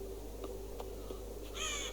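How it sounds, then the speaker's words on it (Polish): Crows caw in the video game Child of Light, a few faint, distant calls over a steady low hum, ending in a brighter, louder call. "te wszystkie wrony to tak, tak naprawdę to są mieszkańcy tej całej wioski, tylko przemienieni"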